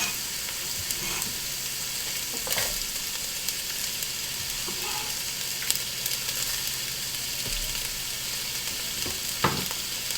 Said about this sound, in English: we're going to add our onions to our pot